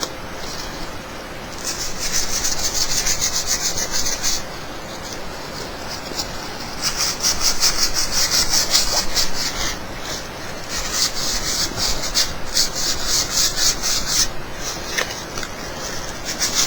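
Steady scratchy abrasive sanding on a glossy PVC pipe surface, continuing in long strokes with brief pauses, close up and with no talking.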